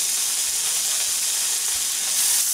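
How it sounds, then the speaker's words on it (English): Homemade bacon frying in a pan, a steady close sizzle and hiss of fat, continuous and fairly loud with no talking. "Throw it in a frying pan."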